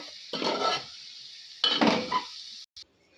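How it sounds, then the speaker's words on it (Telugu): Vegetables with salt and chili powder stirred in a pan, with two bursts of scraping and clinking from a utensil against the cookware, close and moderately loud, and a quiet pause between them. "ఈ విధంగా మూడింటిని ఒకసారి మిక్స్ చేసేసుకుందాం."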